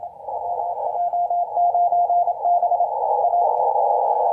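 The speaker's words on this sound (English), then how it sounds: "Oh, come on, electrical noise, please stop." A steady CW sidetone on a 20m amateur radio band rides through continuous electrical interference, the keyed tone broken into short dashes against a constant buzzing hum that stays loud throughout.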